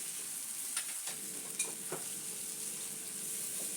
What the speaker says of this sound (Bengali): এখন আমি সবগুলো উপকরণ আবারও মিশিয়ে নিচ্ছি